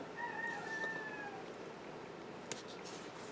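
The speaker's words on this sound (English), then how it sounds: "He's the rooster, if you're curious." A rooster crows outdoors, a faint, drawn-out call that carries from a distance, followed by quiet and a single sharp click nearby.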